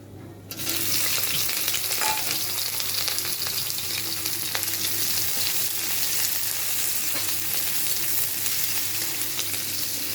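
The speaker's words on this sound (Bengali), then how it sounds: "একটু ভালো করে পেঁয়াজ কুচিটাকে একটু ভেজে নেব।" Chopped onions hit a pan of hot oil with cumin seeds, erupting into a loud, dense, continuous sizzle that holds steady for about ten seconds with occasional stirring scrapes.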